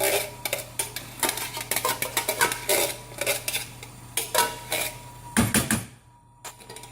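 A utensil scrapes tomato sauce out into a pan of reduced red wine, mushrooms and tomatoes, making repeated sharp metallic clinks and scrapes in an irregular rhythm, close and fairly loud, before ending abruptly in near silence.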